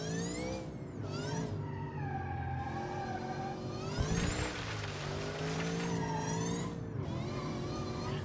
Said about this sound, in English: I know turbos make more horsepower, but listen to that.